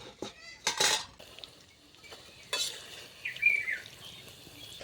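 Soybean chunks frying in oil for chilli soybean, a faint background sizzle broken by several sharp clanks of a utensil against the pan, with no speech.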